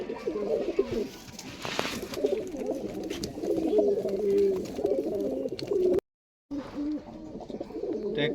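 Giribaz, local and Pakistani pigeons coo in a loft, soft rolling throaty calls overlapping continuously, close and fairly loud, with a brief dropout near the end and no talk.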